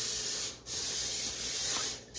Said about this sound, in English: we're going to spray our pan with some butter spray.